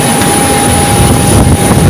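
An airliner's engines run on the tarmac after landing, giving a loud, steady roar with a high whine held throughout, close by and without talk.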